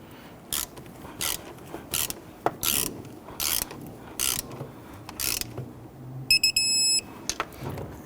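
Ratchet clicking in repeated short bursts while turning a starter nut on a 2011-2015 Kia Sorento, close and fairly loud, with a few brief electronic beeps near the end.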